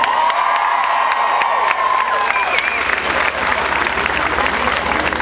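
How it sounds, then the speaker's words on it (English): A crowd applauds and cheers for Brenda after her introduction, with loud sustained clapping, sharp individual claps standing out, and whoops and shouts rising above it throughout. "please give a huge round of applause to Brenda for that great introduction"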